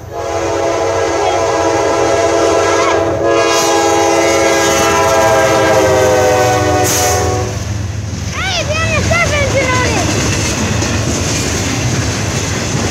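A loud, sustained horn blares over the rumble of a passing Norfolk Southern freight train, then cuts off, leaving the heavy rolling clatter of double-stacked container cars close by.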